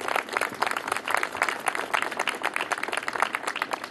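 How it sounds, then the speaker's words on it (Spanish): A community crowd applauds at a Mercedes town event about street repaving, brisk steady clapping at moderate distance with no talk over it. "un fuerte aplauso para toda la comunidad"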